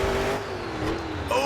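Monster truck engine roaring through a freestyle run at a qualifying and freestyle event, a loud steady drone with a slight rising whine near the end, no talk.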